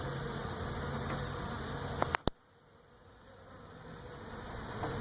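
Bees fly at the entrance of a top bar hive outdoors, making a steady close buzzing drone, briefly broken by two sharp clicks and a sudden drop before the hum builds back.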